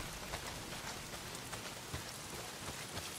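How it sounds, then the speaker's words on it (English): Heavy rain pours steadily in the game Days Gone, a dense continuous hiss of drops striking surfaces with no voices. "not if it's pissing down rain"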